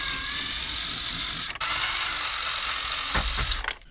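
A ratchet clicks steadily and close up while backing out screws from the dashboard cover of a Nissan S14 240SX, one brief pause breaking the rapid pawl chatter.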